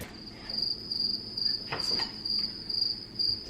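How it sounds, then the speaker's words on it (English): Cricket chirping sound effect: a rapid, high trill repeats in short even bursts about twice a second, close and clear over a quiet background. "Cue the crickets."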